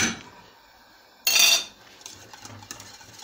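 A spoon works through kazandibi pudding in a pot, giving one loud metallic scrape and clatter followed by quieter knocks and rustles against the pot.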